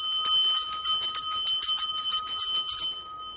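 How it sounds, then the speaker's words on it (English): A handheld bell is rung for smudging to cleanse a room, giving a quick run of bright, close metallic rings at a steady rhythm that fade out at the end. "I would take the bell. I'm showing it with the bell because it's easier for you. I would just ring it."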